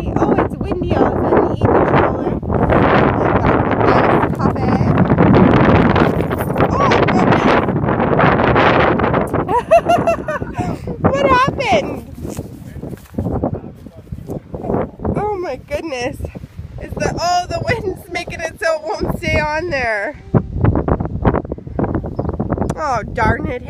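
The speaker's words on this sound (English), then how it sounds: "Oh, it's windy out there." Strong wind buffets and roars across the microphone in heavy gusts, easing later as people talk and call out over it.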